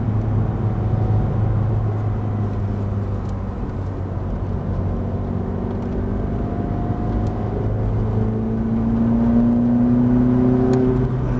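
Inside a Ferrari F430, the engine drones loud and steady with rising and falling pitch as it accelerates through the gears, accompanied by constant road and cabin noise.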